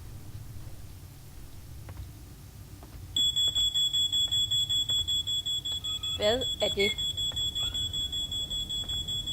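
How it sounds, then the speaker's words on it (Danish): An alarm in the Paranormal game starts a few seconds in and beeps steadily in loud, rapid, high-pitched pulses, with someone speaking briefly under the alarm. "Det lyder som en alarm."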